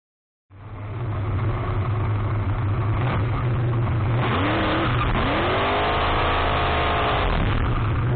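A nostalgia NE-2 dragster engine starts loud and stays loud for several seconds, running as a constant roaring drone with rising tones as it revs at the California Hot Rod Reunion 2025.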